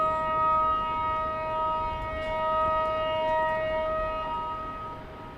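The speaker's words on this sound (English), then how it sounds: "You hear the siren now. I think you can probably hear it. Indicating lightning in the area." A lightning warning siren at Dallas Love Field airport wails steadily in the distance, a sustained multi-tone note that rises and falls gently over a low background rumble, with no talking.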